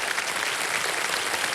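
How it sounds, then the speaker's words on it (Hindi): A studio audience on the quiz show Kaun Banega Crorepati Season 17 claps for a contestant who has just won 70,000 rupees. The applause is steady, dense and full, with no talking over it. "तालियां बज जाए इनके लिए।"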